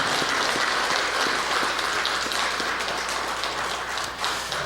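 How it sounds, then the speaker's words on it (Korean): A church congregation at a New Year thanksgiving service gives warm applause to welcome new members: a dense, even patter of many hands, fairly distant and sustained throughout. "우리 따뜻한 박수로 환영하도록 하겠습니다"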